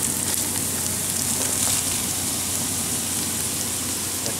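Green pepper sizzling in a hot frying pan while making nachos, a steady, even crackle that holds throughout at moderate loudness, with no talk over it.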